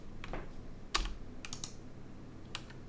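Scattered keystrokes on a computer keyboard entering shortcuts in Blender 2.8, a few quick clicks spread over a few seconds, close and fairly quiet with no talking.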